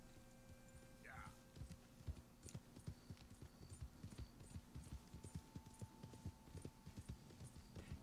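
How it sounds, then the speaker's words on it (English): Hooves of a Black Arabian horse clip-clopping in Red Dead Redemption, a quick steady rhythm of soft hoof beats with a brief whinny near the start, faint and continuous. "like Biscuit, this horse has been very good to the channel"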